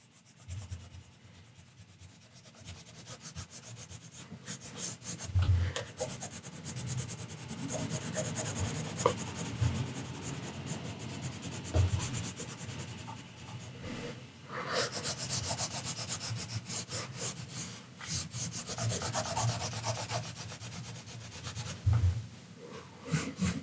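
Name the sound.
side of watercolour pencil rubbing on paper while drawing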